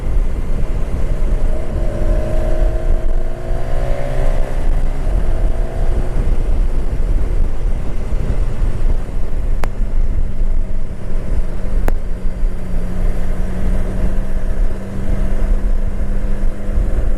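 A 2019 BMW S1000XR motorcycle engine drones steadily while riding, under heavy wind rush, with rising engine tones early on and a constant loud roar throughout.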